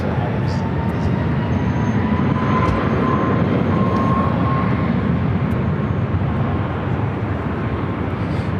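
A Southwest Airlines Boeing 737 MAX 8 takes off on runway 24 left, a loud, steady, broad engine roar that holds unbroken throughout, with voices talking over it.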